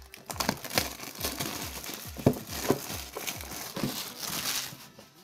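Close crinkling and tearing of wrapping as a purchased box of UEFA Euro 2016 trading cards is opened, with a brisk, irregular run of rustles and rips.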